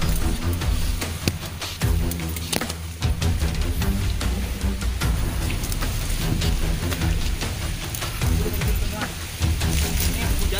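Heavy rain pours steadily over swampy Amazon forest, a dense continuous hiss throughout, with people talking loudly over it.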